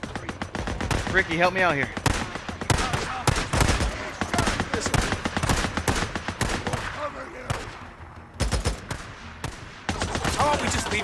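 A heavy machine gun in the game Days Gone fires loud, rapid bursts of close, sharp shots that stop and start repeatedly, while someone talks over the gunfire.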